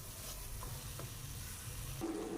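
Gram flour (besan) roasting over a low flame in a pan for a sweet halwa, with a steady soft sizzle and stirring scrapes throughout and no talking.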